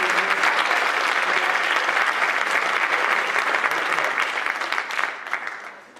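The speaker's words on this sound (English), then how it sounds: "So I'd like to have Nick get a round of applause" Sustained round of applause from an audience at a winter sports awards ceremony, loud and steady, then tapering off near the end.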